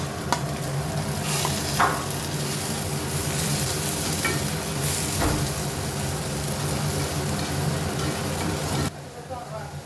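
Ginger, garlic and onion frying in oil make a steady, close sizzle with stirring scrapes, and a voice talks over it before the sound drops off near the end.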